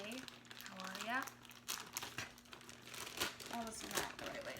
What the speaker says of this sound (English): Oh, this is not the right way to open the bags.